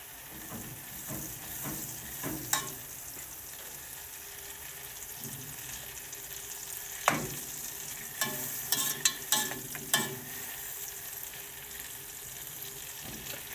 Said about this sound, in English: the butter is starting to melt. It's also probably going to start boiling